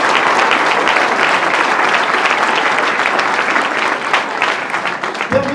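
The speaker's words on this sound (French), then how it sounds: "applaudissons nos dévoués fonctionnaires" An audience at a town New Year's greetings ceremony in Villeneuve-le-Roi gives the town's civil servants a dense, sustained round of applause that carries on loudly and fades only at the very end.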